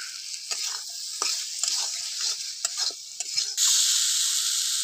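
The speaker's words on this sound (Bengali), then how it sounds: "মশলাটা ভালোভাবে কষানো হয়ে গেছে, এবার দিয়ে দেবো আমি আলুগুলো।" Potatoes added to cooked-down spice paste in a pan for a bata fish curry, sizzling steadily while a utensil scrapes and stirs in repeated strokes, ending with a louder burst of hiss.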